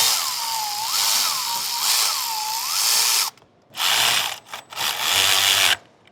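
A ratchet tightens a 10 mm bolt on a Ford 6.0 diesel Excursion, giving loud, close, rapid clicking in several bursts separated by short pauses.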